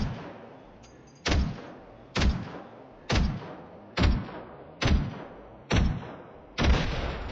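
Single gunshots in the video game Generation Zero ring out alone at a steady pace, about one shot per second, seven loud reports each with a short decaying tail.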